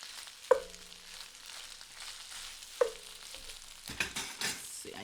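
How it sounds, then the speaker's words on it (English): Rice fries with garlic in a pan, giving a soft continuous sizzle. Two sharp clanks of a utensil against the pan stand out, then scraping stir-fry noises follow near the end. "you're just gonna fry your rice with, never waste, with garlic"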